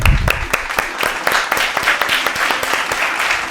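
An audience claps loudly to welcome children onto a kids' show stage, a dense burst of applause that starts strong and continues evenly throughout.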